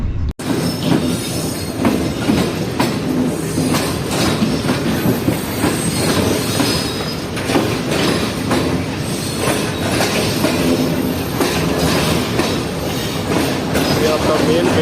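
Tezgam passenger train running from Karachi to Rawalpindi, heard from inside a carriage: a steady loud rumble of wheels on track with rhythmic clicks, occasional squeals and faint voices underneath.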